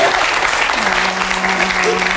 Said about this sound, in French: Bravo, on l'applaudit.